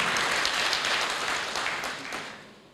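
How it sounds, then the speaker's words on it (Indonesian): A church congregation claps together after a sermon prayer, a dense steady wash of applause that slowly thins and fades over a few seconds. "Yang setuju beri tepuk tangan yang beri buat Tuhan."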